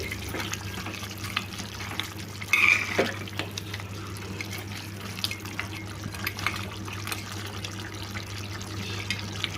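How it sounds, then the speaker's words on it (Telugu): Water is poured into a pot of country-style chicken curry until the pieces are covered, a continuous close pouring wash with a brief louder splash early on. "ఇప్పుడు దీంట్లో ఎసరు వేసుకోవాలండి ముక్క మునిగే వరకు పోసుకోవాలి"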